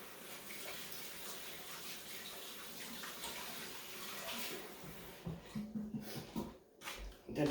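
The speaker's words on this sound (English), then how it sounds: "I'm going to wash my hands." Water runs steadily from a kitchen tap during handwashing, a soft continuous hiss that gives way near the end to a few louder splashes and gushes.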